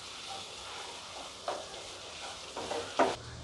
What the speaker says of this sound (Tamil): இதோட நம்ம கறிவேப்பிலை சேர்த்துக்கலாம். சேர்த்து வதக்கிக்கலாம்.